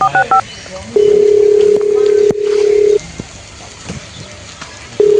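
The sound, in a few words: telephone dialing to call the police station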